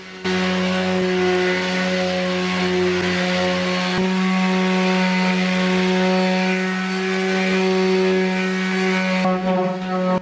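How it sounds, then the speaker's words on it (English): A power sander drones steadily against the wooden bed of a boat's centerboard slot keel, a close, continuous motor whine that shifts pitch slightly partway through before cutting off near the end. "All that has to be done then is sanding the bed smooth."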